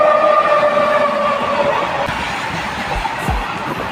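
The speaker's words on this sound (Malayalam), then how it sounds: "ദേ ഈ വരുന്നതാണ് നമ്മുടെ ട്രെയിൻ" A train pulls into Payyanur railway station, its steady horn tones sounding for about two seconds over a broad rumble of wheels and carriages, which keeps rolling loudly to the end.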